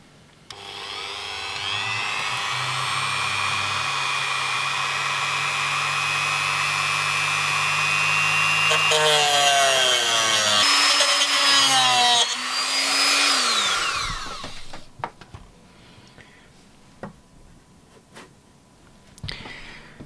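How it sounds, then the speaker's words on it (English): A Dremel rotary tool cuts through model railway track fitted with rail aligners across a baseboard: a loud, sustained high-pitched whine that shifts pitch as the bit bites, then winds down into scattered faint clicks and handling noises. "So let's cut these with the Dremel now."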